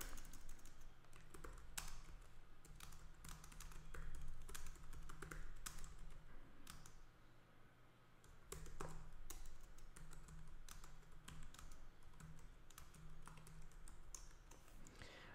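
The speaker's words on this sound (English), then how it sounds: "I'm just going to type in something real quick." Someone types on a computer keyboard in quiet, irregular bursts of soft key taps spread over several seconds, with short pauses between runs.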